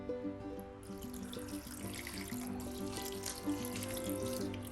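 Water pours into a pan of long beans and prawns seasoned with turmeric and salt, a faint, steady trickle running under soft background music.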